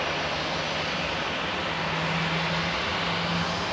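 An EasyJet airliner departing Manchester Airport for Nice gives a constant, fairly quiet engine roar with a faint steady hum, unbroken and without talk.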